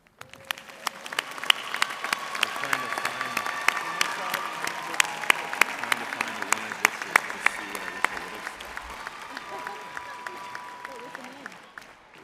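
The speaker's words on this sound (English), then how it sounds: "Join me in applauding these students for their success." An audience at an August 2024 commencement applauds graduating business honors academy students, a steady roar of many hands clapping with sharp individual claps standing out, sustained for the whole stretch at moderate loudness.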